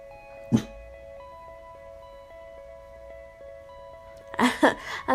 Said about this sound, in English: I'm sorry if you heard my dog barking.